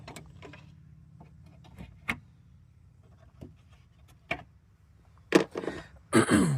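Ratchet-like clicks and short metallic ticks from 10 mm bolts being removed under the coolant tank of a Ford Focus, sparse at first, then denser and louder bursts near the end, with no speech.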